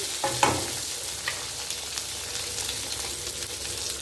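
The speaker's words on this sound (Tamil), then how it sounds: "இது நல்லா ஓரளவு வதங்கி வரட்டும் முழு முழு பழமாக இருந்தால் ரொம்ப நல்லாயிருக்கும் நசுக்காதுங்க அப்படியே வதங்கட்டும்" Whole cherry tomatoes sauté in a pan for sambar, sizzling steadily, with a spoon scraping and stirring early on and a few soft clinks later, close and clear with no voices.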